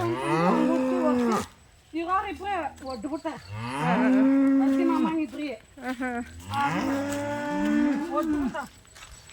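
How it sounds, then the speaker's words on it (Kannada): Cows on a family farm moo in long, loud, drawn-out calls, several overlapping and repeating close by, with a person speaking briefly between them. "ಹಸುಗಳು ನೋಡು ನಿನ್ನ ವಾಯ್ಸ್ಗೆ ಹೆಂಗೆ ಬಡ್ಕೋತಾಯ್ತಲ್ಲ"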